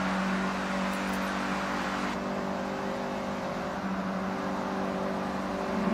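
A Mazda MX-5 in a racing video game, voiced as a generic four-cylinder engine, holds a steady, droning hum under load at constant speed, loud and close throughout.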